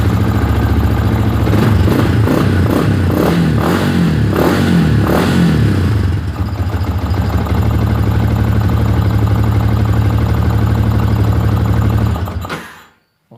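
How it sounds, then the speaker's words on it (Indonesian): A fuel-injected motorcycle engine, started after a BAS sensor fault, revs in several quick throttle blips before settling into a steady loud idle that cuts off near the end. "stasionernya bagus, digeber pun tetap normal"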